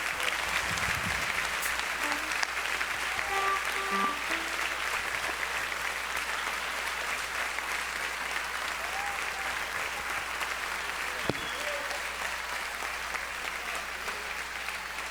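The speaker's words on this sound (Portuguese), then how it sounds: "Você pode aplaudir a Ele." Sustained applause from a large crowd at a church congress, steady and dense throughout, with a few faint voices audible near the start.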